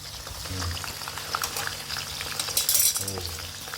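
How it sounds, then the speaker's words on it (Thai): Mackerel frying in a pan: a loud, continuous close sizzle with bubbling spatters and a burst of crackling, plus brief clinks and a short voice in the background. "แต่เราทอดปลาทูด้วยครับ"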